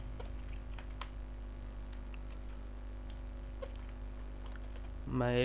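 Sparse keystrokes on a computer keyboard while entering text in Microsoft Word, scattered light clicks over a steady background hum, with a brief louder burst near the end.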